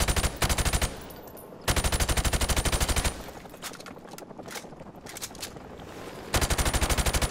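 Automatic weapon fire in the video game Modern Warfare comes in loud rapid bursts, a long rattling burst at the start, another in the middle and a third at the end, with quieter game noise between.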